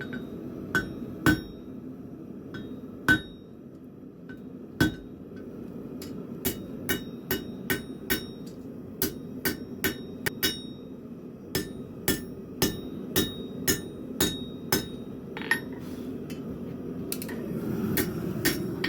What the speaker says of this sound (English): We'll take it over to the horn of the anvil, and we're going to put in our first finger well.